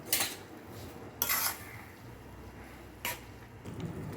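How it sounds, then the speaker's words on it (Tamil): Spoon clinking and scraping against a pan while stirring ponnanganni keerai kootu with coconut and cumin, a few distinct metallic stirs with quiet pauses between them. "ஸோ கிளறிடுவோம்"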